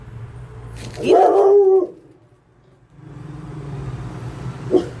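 A dog lets out one loud, drawn-out bark close by, then a shorter bark after a pause, over a low background hum with no talking.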